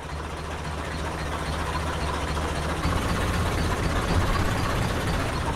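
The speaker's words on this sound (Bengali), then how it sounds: "ওই তো আমার জাহাজ এসে গেছে।" A ship's engine approaches with a steady low rumbling drone that gradually thickens and grows louder, a continuous mechanical hum with no speech.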